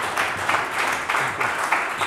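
Steady applause from a crowd at a startup marketing event in Vienna, a continuous patter of clapping at moderate distance.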